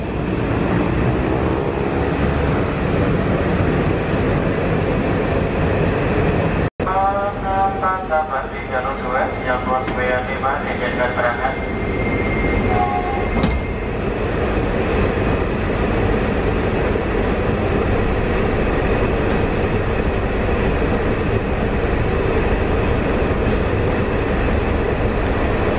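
A KAI Commuter Line KRL electric train pulls out of Klaten station, its steady loud rumble and rolling hum filling the whole stretch, with a brief tonal electric whine midway and talk heard over the running noise.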